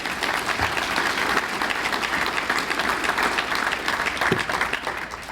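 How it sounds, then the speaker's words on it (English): Steady audience applause at an annual meeting of Bay County's Bay Futures organization, a dense even wash of clapping that holds for the whole stretch with a few sharper claps standing out. "give yourselves a round of applause for that one"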